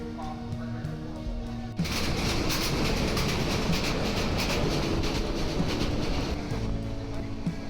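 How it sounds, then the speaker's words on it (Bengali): The Parjatak Express from Dhaka to Cox's Bazar runs at about 80 km/h with a steady rolling rumble and rhythmic wheel clatter on the rails, heard from inside and growing louder after a sudden shift. "ট্রেন এই মুহূর্তে ঘন্টায় প্রায় আশি কিলোমিটার গতিতে চলছে"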